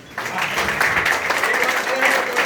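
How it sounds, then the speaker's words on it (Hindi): An audience at a coaching association gathering claps for a future MLA after a brief quiet moment, the applause swelling into a loud, steady patter of many hands that carries through to the end. "भावी विधायक के लिए समर्थन में खड़े होकर ताली भी चाहिए।"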